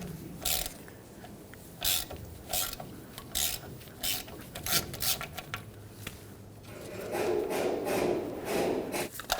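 Metallic ratcheting and scraping clicks in short bursts as a socket wrench strains on a stuck, rusty bolt on a 2009-2011 Ford F-150 rear brake assembly, followed by a longer grinding rasp near the end.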